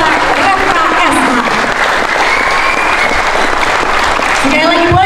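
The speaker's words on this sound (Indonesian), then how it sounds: "Sekali lagi boleh tepuk tangan meriah" A large audience applauds warmly and steadily at an official inauguration ceremony, a dense wash of clapping that carries on without a break throughout.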